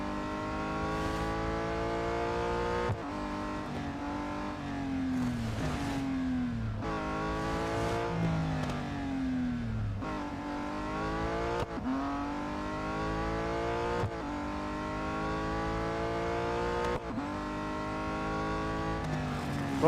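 A race car engine in the Real Racing 3 mobile racing game revs loud and continuous throughout, its pitch climbing in repeated sweeps and dropping sharply at each gear change, with no talking over it.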